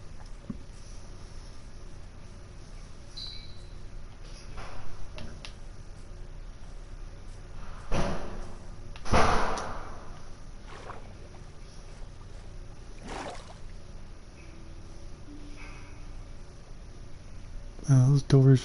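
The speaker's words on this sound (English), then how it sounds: "Those doors are loud" Wooden doors in the Minecraft video game slam shut loudly a few separate times over a steady low background, with sharp thuds spaced several seconds apart.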